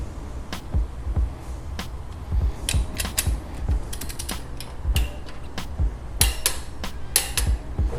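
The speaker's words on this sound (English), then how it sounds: "So we're gonna adjust the torque wrench to that." Clicks and creaks of a torque wrench ratcheting down a frame slider bolt on a motorcycle, set to about 30 foot-pounds; irregular close mechanical ticks and ratchet strokes over a steady low background, with no talking.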